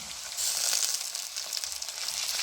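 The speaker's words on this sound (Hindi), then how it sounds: "टमाटर को हम अच्छी तरह भून लेंगे कि ये मैश से हो जाए।" Onions, chillies and tomatoes fry together in a pan, giving a fairly quiet but steady high-pitched sizzle that rises and falls slightly without a break.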